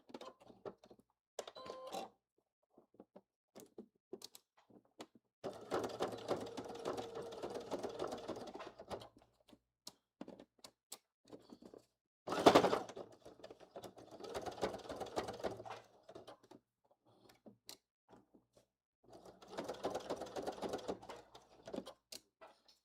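A sewing machine bastes a fanny pack seam with a half-inch seam allowance, running in several short, soft bursts separated by pauses, with one sharp thunk partway through.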